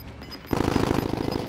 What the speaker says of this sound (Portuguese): Cara, esse tiro é muito perto.